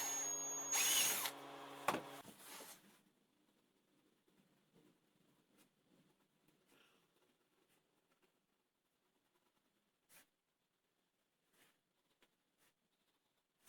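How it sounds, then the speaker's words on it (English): A power drill whines loudly for a couple of seconds while drilling holes in wood, then stops; faint scrapes and small clicks follow in near silence. "The holes I'm drilling are required for fixing it in a holder later."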